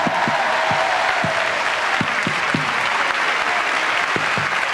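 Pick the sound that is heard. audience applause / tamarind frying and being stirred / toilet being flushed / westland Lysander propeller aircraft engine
audience applause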